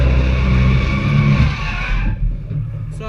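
A car driving around a drift practice course, its engine roaring loud and steady while accelerating, then dropping away abruptly about two-thirds through as the sound cuts off.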